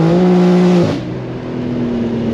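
A very loud, powerful car engine pulls hard in third gear, with a steady high engine drone that briefly drops at a shift-like break before the note settles and carries on close up.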